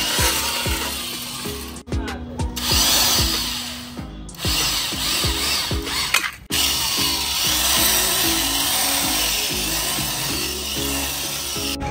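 A power drill runs almost continuously, boring two mounting holes for a magnetic tail tidy on a KTM Duke 390 motorcycle, with whining bursts separated by brief pauses and a few short stops.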